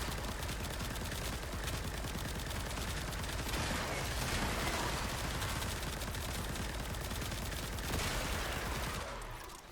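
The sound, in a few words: Tenet Diplos pistols firing in video game Warframe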